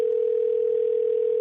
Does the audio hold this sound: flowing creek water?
no